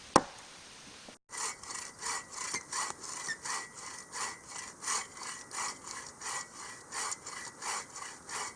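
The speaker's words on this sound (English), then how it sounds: "We use the small saw to make the straight front cut" A small hand saw cuts through a standing tree trunk outdoors in steady back-and-forth strokes, about two per second, close and rhythmic, following a single sharp knock at the start, with no voices.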